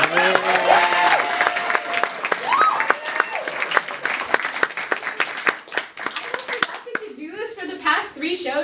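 Audience at a spoken-word play applauding, loud close clapping with some cheering that runs under voices talking, tapering into speech near the end.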